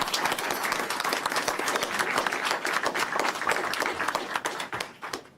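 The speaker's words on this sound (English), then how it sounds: "So give each other a round of applause." Dense, steady applause from clinic staff at a new Staten Island health clinic opening, many hands clapping together at close range for several seconds before tapering off near the end.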